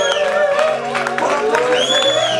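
A church congregation at an Easter service applauds and cheers, with loud voices and sung tones over rapid clapping in a reverberant room.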